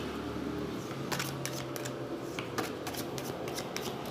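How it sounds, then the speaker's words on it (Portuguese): A small pile of playing cards being shuffled during a tabletop card game, close and fairly soft, with a steady papery riffle and repeated sharp flicks and snaps of cards through the second half. "Embaralhar esse punhadinho de carta é punk."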